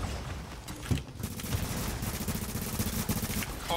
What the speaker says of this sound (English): This fucking kid is just hip firing.